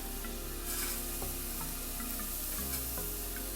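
Raw farro is sautéed in a pan, giving a steady soft sizzle with light scraping and stirring clicks, close and quiet, with no voices.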